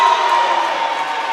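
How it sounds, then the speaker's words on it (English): Students in a school gym cheer at a high school volleyball match, a brief loud crowd roar that holds steady without any break. "The students were cheering about that one, thinking it was in bounds"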